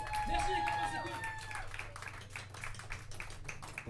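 Audience applause at a live rock show in a Paris venue, crowd clapping rising beneath lingering amplified instrument tones and a low stage hum, moderately distant.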